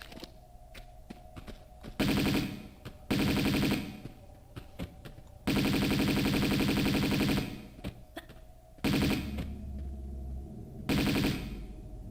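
Uzi fire in Tomb Raider II Remastered comes in several long rattling bursts of rapid shots, loud and close, separated by quieter gaps with faint game ambience and scattered thuds.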